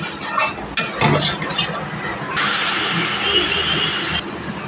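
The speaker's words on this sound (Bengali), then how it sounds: "প্রত্যেকটা মশলা ভালোভাবে কষিয়ে নিতে হবে" Spices for a rui fish curry with cauliflower and potato being stir-fried in a pan, a steady sizzle with scraping and clinking of a spatula against the metal, close and moderately loud.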